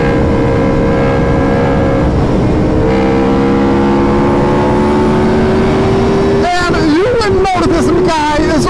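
Two sport motorcycles, a Suzuki Gixxer 750 and an Aprilia RSV4 1000, ride together at speed, engines droning steadily with rising pitch and shifting revs near the end, loud and continuous.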